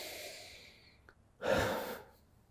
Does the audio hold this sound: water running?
no